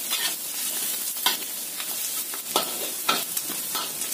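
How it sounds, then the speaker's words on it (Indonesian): Garlic stir-fried in a wok for kwetiau goreng, a steady sizzle broken by several sharp scrapes and clinks of the spatula against the metal, close and fairly loud with no talking. "Kita tambahkan bawang putihnya. Kita tumis lagi sampai matang juga"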